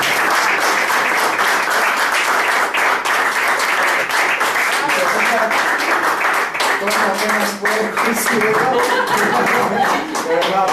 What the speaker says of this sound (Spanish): Me gustaría que nos diéramos un gran aplauso por esta sesión.